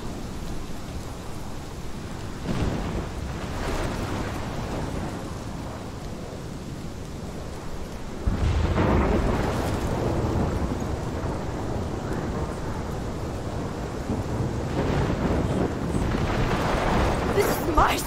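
A heavy thunderstorm in the video game Life Is Strange, with steady rain and deep rolling thunder swelling and surging over several seconds, a voice talking over the roar throughout.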